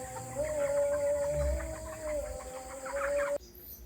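Broiler chickens cluck and murmur close by during weighing at harvest, over a steady mechanical hum, with a few sharper clucks near the end.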